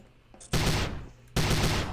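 Two bursts of rapid automatic rifle fire from the Prey mod weapon in Garry's Mod, each sharp and loud with a short dense rattle, separated by a brief pause, with no talk.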